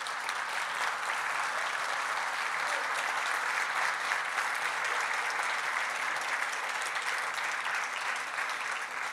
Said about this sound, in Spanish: Yo le invito a que le dé el mejor aplauso al Señor